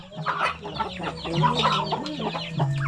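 Asil breeder chicken clucking close by, a busy run of loud, choppy clucks and throaty calls from the bird.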